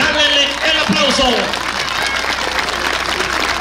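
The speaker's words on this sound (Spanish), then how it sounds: "Los que gusten, quieran y desean que Rancho Imperial, su jinete, el desobediente de Jalisco, eliminen a Rancho Villa Alta, háganle el aplauso" A crowd at a bucking-horse tournament applauds loudly and continuously in a dense roar of claps, with an announcer's voice talking over it.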